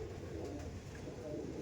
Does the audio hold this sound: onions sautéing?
no